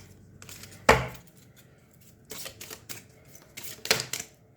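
Tarot cards shuffled and drawn during a Hindi reading: soft papery riffles and slaps, with one sharp snap near the start and later bursts of flicking, close and fairly quiet.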